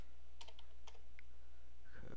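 A few light clicks of typing on a computer keyboard, sparse keystrokes close up over a low steady hum, ending in a soft rattle.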